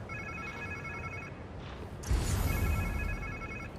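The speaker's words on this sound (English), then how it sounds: "Sounds like somebody's phone." A phone rings in Marvel's Spider-Man 2, a repeating electronic trill in two bursts separated by a short pause, heard over a steady game ambience that grows louder partway through.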